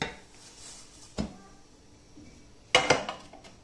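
A cooked flatbread is set down on a plate with two sharp clinks of dishware, one brief knock followed later by a louder rattling clatter.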